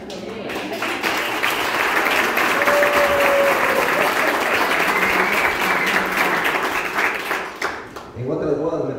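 Wedding guests break into loud, sustained applause that fills the room for several seconds before fading, with voices rising as it ends.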